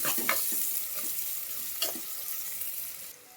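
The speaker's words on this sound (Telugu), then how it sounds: "పుదీనా కొత్తిమీర కూడా మంచిగా గోలాలి, మంచిగా ఫ్రై కావాలి." Mint and coriander leaves frying in a pan for a Telangana-style mutton curry, with a steady soft sizzle and a few scraping stirs close by, no voices.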